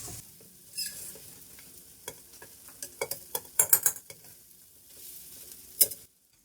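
Shinwari mutton karahi with fresh coriander frying and being stirred in a karahi: a soft steady sizzle under repeated clinks and scrapes of a spoon against the pan, busiest midway, with no talking.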